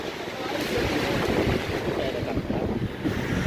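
Strong night wind roaring over a microphone on the Subang–Bandung road near Ciater, a loud, continuous buffeting rush with no break.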